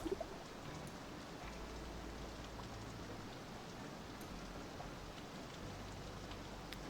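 Steady rain falls outdoors near a college science lab, a faint, even hiss of drops that holds without pause for the whole stretch, with no voices.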